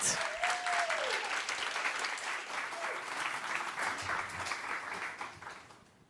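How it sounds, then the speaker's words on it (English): A live audience at a young innovator awards event applauds a finalist, dense steady clapping filling the room before tapering off at the end, with a brief tonal whistle-like sweep early on. "ask you to do one round of applause to welcome our first finalist, Shri, who will pitch Mat Zero Heat."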